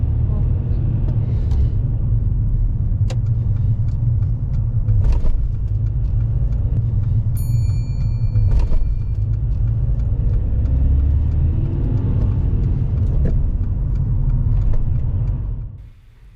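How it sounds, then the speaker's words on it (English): A car, driven by a learner on a driving lesson, travelling down a motorway slip road after an exit, with steady low engine and road rumble throughout and brief voices in the cabin, fading out at the end. "Driving down this slip road, Saima's driving over the solid line"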